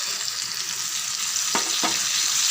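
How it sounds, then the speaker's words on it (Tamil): Ginger garlic paste and masala frying in a pan, a steady bright sizzle throughout with two sharp spoon scrapes near the end, close and fairly loud. "நல்லா பொரியட்டும்."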